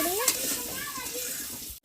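Potatoes seasoned with salt and turmeric frying in a pan for chicken curry, a soft close sizzle with faint stirring scrapes, brief and fairly quiet.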